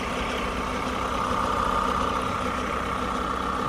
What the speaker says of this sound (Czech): Trošku mě vadí teďkom ten chod motoru za teplo